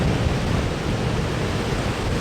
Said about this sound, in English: imagine the waves pounding in like that